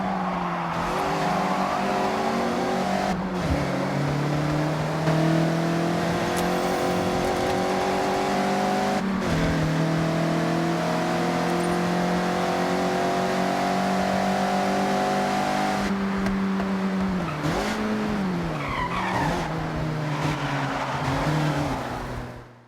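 A Mazda MX-5 in the Forza Horizon racing game holds a loud, sustained engine drone that rises and falls through gear changes while cornering, with brief dips and tire scrub as it slides sideways, close and without talk.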